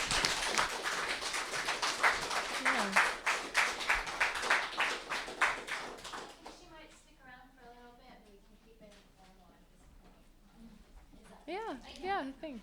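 An audience at a lunch talk with an author breaks into dense clapping for about six seconds, then it fades into scattered claps and murmuring voices.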